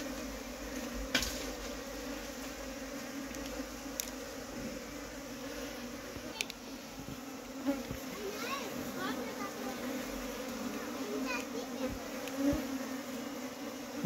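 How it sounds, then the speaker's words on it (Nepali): Dense buzzing of a large swarm of honey bees that has absconded from its hive and is being collected outdoors; steady, moderately faint drone with a few sharp nearby knocks, and voices faintly in the background. "मौरी पहिलोपटक फुटेकोले अत्यन्तै धेरै सङ्ख्यामा थियो"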